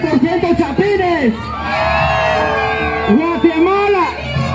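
A large parade crowd of Central American spectators shouts and cheers for Guatemala, with loud whoops and yells rising in bursts, close and dense, while an announcer's voice booms over them.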